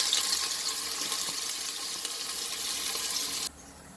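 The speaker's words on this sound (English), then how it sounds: "I'm going to fry these onions" Onions frying in hot oil in a pot for keema khichdi: a steady, bright sizzle that holds strong for several seconds, then cuts off sharply near the end, with no talking.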